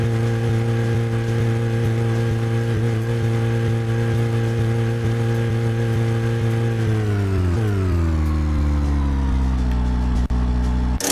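A car in a Deadly Premonition field, its engine droning steadily with a strong low hum for several seconds before the pitch drops as it winds down to a lower idle, ending with a brief click.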